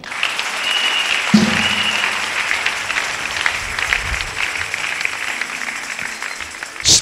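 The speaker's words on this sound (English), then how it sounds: "Clap for Jesus." A church congregation at a Sunday service breaks into steady, sustained applause, many hands clapping together at close range for several seconds with a few faint voices mixed in.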